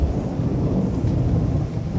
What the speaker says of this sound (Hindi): हया, क्या तुम इस बारिश में पैदल आई हो?